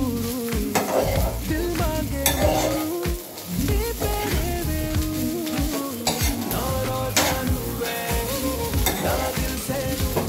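Garlic egg fried rice with a splash of soy sauce being stir-fried in a pan: a steady, close sizzle broken by repeated scraping and stirring strokes that run throughout.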